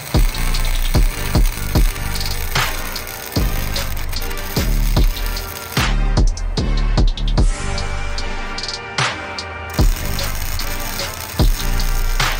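A Honda Integra DC2 with a swapped K20 engine runs close by with a loud, rough, steady drone, broken by repeated clicks, knocks and rattles.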